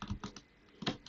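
Computer keyboard keys clatter in short bursts near the mic while code is deleted, with a quiet pause between the early taps and a final flurry.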